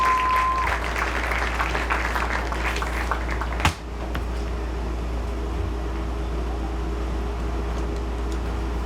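Audience applause at a high school athletic awards ceremony honoring the girls weightlifting team, a steady wash of clapping throughout with a sharp thump midway, over a low hum from the hall.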